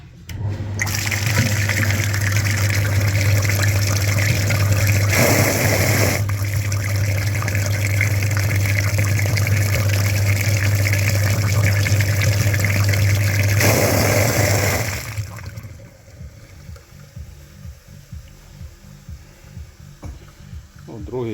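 A pump pushes flushing liquid through a filter in a Chevrolet Lacetti cooling system: a loud, steady rush of water over a low motor drone runs for about fifteen seconds, then cuts off to quieter background noise.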